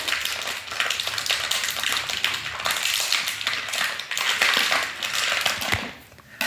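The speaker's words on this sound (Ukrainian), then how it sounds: "Потім ішов по камінчиках." Steady crunching footsteps on loose pebbles, continuous and close, stones grinding underfoot throughout with no voices.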